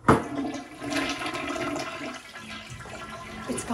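Toilet flushing in a house: a sharp start then a sustained rushing swirl of water, close and loud, fading slightly toward the end with no voices.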